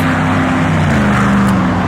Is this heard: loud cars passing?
yes